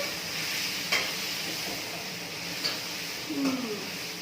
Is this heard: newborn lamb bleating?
no